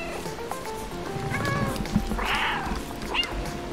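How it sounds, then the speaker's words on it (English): A cat meows in the video game Stray, one short mid-pitched call standing out over busy game ambience and background music, with a second brief cry near the end. "I want to see what they do if I meow."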